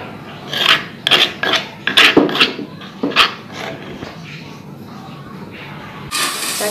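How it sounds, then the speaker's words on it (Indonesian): A gas stove flame is lit for cooking tempeh and tofu: several sharp scraping bursts, a quieter stretch, then a rushing hiss of gas near the end, close by. "Kita nyalakan apinya."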